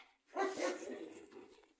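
Large dogs bark outdoors as one brief, faint burst from some distance that fades within about a second, with no talk over it.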